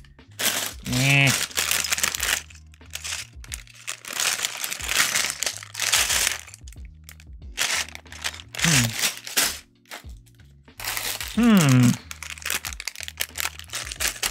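A plastic bag of building bricks is torn and opened, with crisp crinkling and rustling bursts repeating at close range, interspersed with short stretches of a person talking.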